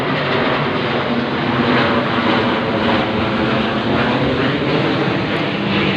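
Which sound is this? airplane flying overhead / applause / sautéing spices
airplane flying overhead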